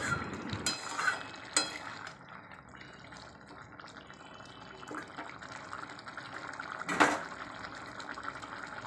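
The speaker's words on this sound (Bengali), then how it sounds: "খুব সুন্দর টকবক করে ফুটছে" A pot of ridge gourd and potato curry simmers with soft, steady bubbling at close range, broken by a few louder clinks and splashes as the cooking goes on.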